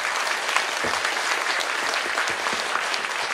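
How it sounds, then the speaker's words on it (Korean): An audience claps steadily throughout at a book concert held at Jogyesa temple, a dense, even wash of applause with no speech over it. "박수 한번 부탁드립니다"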